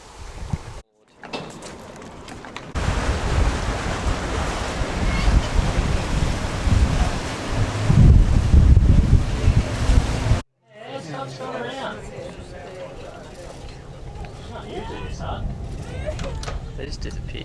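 Strong wind buffets the microphone in roaring gusts at Cahill's Crossing in Kakadu, Australia, with surf-like rushing, a brief dropout, then gustier blowing mixed with faint voices.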